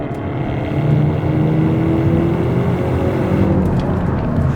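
Engine drone of a 2025 Hyundai Elantra N heard from inside the cabin, a steady loud rumble that swells slightly as the car accelerates, with no talking.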